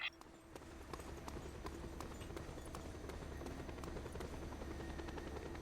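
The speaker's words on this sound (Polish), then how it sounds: "sending a helicopter to pick you up" Helicopter in the Just Cause 2 video game, a continuous close rotor chop and engine drone holding steady throughout at moderate level with no talking.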